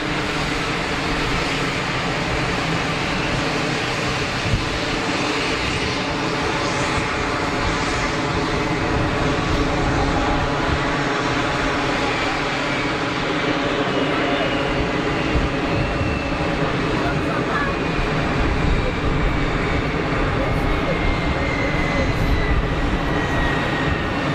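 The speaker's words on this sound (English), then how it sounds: "That's got to be a Falcon, surely." A Falcon business jet at Geneva Airport gives a sustained jet-engine roar with a faint rising whine, steady and fairly loud throughout a long stretch with no voices.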